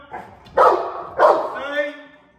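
A working dog in a bite-training drill barks twice, loud and close, the second bark trailing into a whining yelp, with a voice mixed in.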